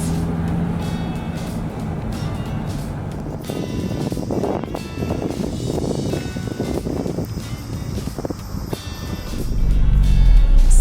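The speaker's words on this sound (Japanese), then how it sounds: "さあフェリー乗船です。 乗っていきましょう。" A car rolls aboard a ferry at Kuchinotsu port, with a steady engine and road hum, wind buffeting the microphone, and a deeper rumble swelling near the end.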